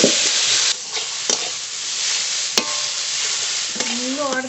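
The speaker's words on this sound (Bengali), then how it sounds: "এবার একটু ভেজে নেবো" Radish with cumin, garlic, green chillies, salt and turmeric fries in oil in a pan before greens are added, giving a continuous close sizzle with occasional spatula scrapes and taps as it is stirred.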